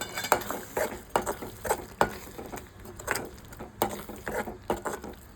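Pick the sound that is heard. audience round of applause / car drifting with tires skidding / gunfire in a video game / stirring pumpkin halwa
stirring pumpkin halwa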